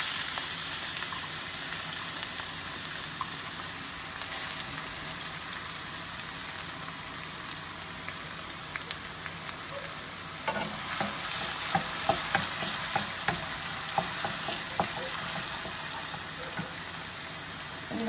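Chopped onions hit about two and a half spoons of hot oil in a pan for a Tamil mushroom curry, giving a steady, close crackling sizzle throughout that grows busier with sharper pops partway through.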